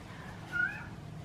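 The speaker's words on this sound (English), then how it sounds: "Little kitty's still here." A cat gives one short, clear meow midway through, fairly close and moderately loud over a quiet background hum, with no talking.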